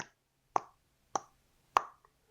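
Three sharp, evenly spaced clicks about half a second apart, followed by a faint softer tick, with silence in between.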